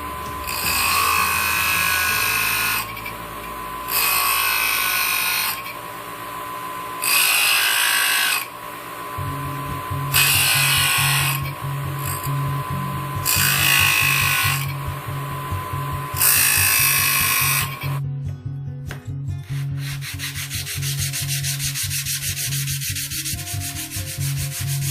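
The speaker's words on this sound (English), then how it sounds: "So after no more than 2 minutes flattening the blade, I can already see that this edge right here is totally flat." A Stanley No. 220 plane blade rubbed flat on an abrasive surface, loud rhythmic back-and-forth scraping strokes in regular bursts of about two seconds, close up, with no talking.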